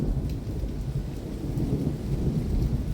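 A thunderstorm with steady rain and deep rolling thunder, a continuous dense rumble that stays loud throughout with no voices.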